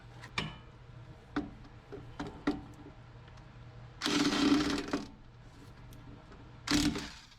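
A wrench ratchets and clicks in short bursts while lower shock mount bolts are removed from a 2011 Chevrolet Suburban, with a couple of longer, louder rattling spells close by.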